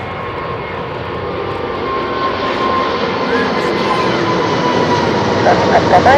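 Emirates Airbus A380, registration A6-EEP, taking off: a steady, loud jet engine roar that swells slightly toward the end, with a faint radio voice heard under the noise.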